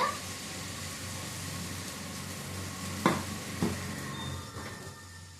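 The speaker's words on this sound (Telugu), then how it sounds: "రాగి పిండితో వేస్తున్నాను దోశ" Ragi flour dosa batter cooking on a hot pan, giving a steady soft sizzle with a couple of brief scraping or stirring clicks, close up and with no talk.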